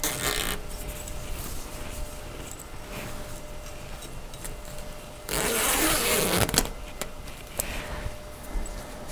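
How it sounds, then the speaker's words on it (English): A zipper runs along the leg cover of a Badger Basket Empress round baby bassinet, giving several rasping zips of varying length, with the longest, loudest pull near the middle. "zipping it the length of the legs"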